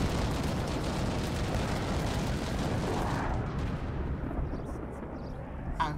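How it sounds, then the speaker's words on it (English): Carpet bombing by bombers in a multiplayer strategy game tournament: a dense, continuous roar of overlapping explosions that runs steadily, then eases slightly after the middle, with a faint pop near the end. "the moment it flies in, they'll just carpet bomb it"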